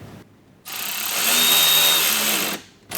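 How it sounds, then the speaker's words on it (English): A 90-degree driver screws through the wheel liner into a retaining clip on a 2010-2015 Audi Q7 during a mud flap install: a close, steady motor whir lasting about two seconds, with no talking. "And we're just going to screw through the liner into that clip, and that will secure that point."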